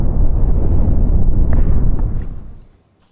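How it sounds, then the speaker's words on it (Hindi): Israeli airstrikes on Lebanon produce a heavy, low rumbling blast that rolls on for over two seconds and then cuts off, loud and deep. "हर तरफ तबाही का मंजर, धमाकों का शोर, आग और धुएं का गुबार"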